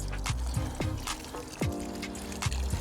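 Rainwater is poured over newly sown carrot seeds in short splashing pours and trickles, several brief gushes spaced across a few seconds, close and fairly quiet.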